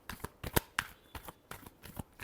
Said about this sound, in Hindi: एक्वेरियस के लिए लास्ट शफल